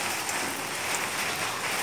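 Heavy rain pours steadily onto an outdoor pond, a dense, even hiss of drops hitting water without pause, close and loud for the whole short stretch.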